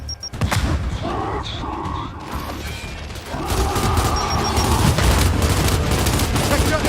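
Heavy gunfire in the Gears 5 video game, with sustained bursts of shots and mechanical clatter that grow denser and louder over the stretch, mixed with game effects and some talk.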